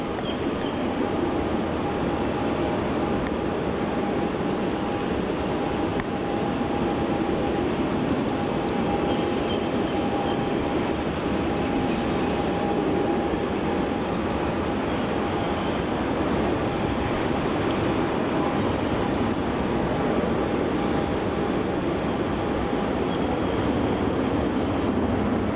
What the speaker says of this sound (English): This is Qantas flight QF380, landing from Christchurch. About to touch down here on runway 34.